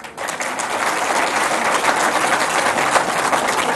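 Loud, sustained audience applause at a public speech event about students, a dense wash of clapping that holds steady for several seconds with no voices over it.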